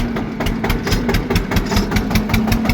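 A steady, rumbling engine idles close by with a regular knocking pulse, running continuously without any voices.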